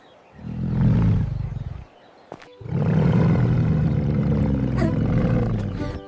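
A lion at a zoo lets out two long, deep, loud roars close by, separated by a short pause with a brief click between them.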